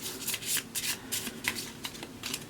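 A deck of cards riffled and shuffled in quick crisp bursts, close up and fairly soft, with no talking.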